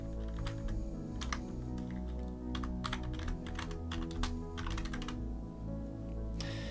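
Quick bursts of keystrokes on a computer keyboard, close and crisp, irregular clicks over a steady low background hum, ending with a sharper final tap.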